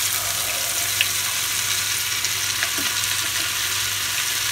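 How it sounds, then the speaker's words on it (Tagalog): Oil sizzles and crackles steadily as tempura fries, a continuous close hiss with small pops. "habang kumukulo po o napiprito ang ating tempura"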